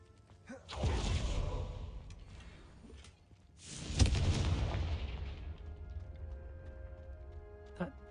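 Confringo fire-blast spell in the Hogwarts Legacy wizarding game: two booming explosions about three seconds apart, each a loud burst that decays into a rumbling hiss, with a small crack near the end.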